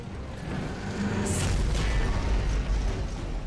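Explosions and artillery roar in the real-time strategy game Iron Harvest, a dense, continuous low rumble of booms with one sharper burst standing out near the start.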